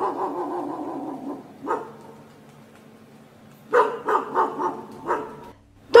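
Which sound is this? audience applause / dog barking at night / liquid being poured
dog barking at night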